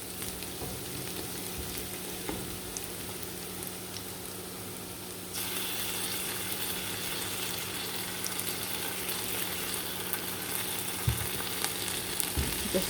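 Onions frying in a pan as garlic and ginger paste goes in, a steady sizzle that brightens and grows louder partway through, with occasional stirring knocks and no voices.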